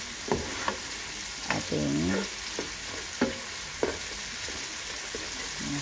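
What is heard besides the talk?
sautéing green and yellow onions in pan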